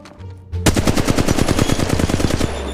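Rapid automatic gunfire in the mobile battle royale game Apex Legends Mobile, a loud sustained burst of evenly spaced shots lasting about two seconds, with no talking.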